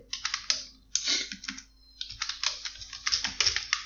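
HTML code being typed on a computer keyboard, fast clusters of crisp key clicks broken by brief pauses, close and clear, with no voice over it.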